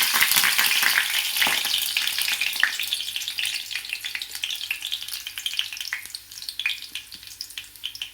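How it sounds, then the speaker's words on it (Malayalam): Dried red chillies frying in coconut oil with popped mustard seeds make a dense, crackling sizzle with sharp pops, loud at first and easing slightly, with no talking. "കടുക് പൊട്ടിക്കഴിഞ്ഞ് ഇതിലേക്ക് ഉണക്കമുളക് ചേർത്ത്"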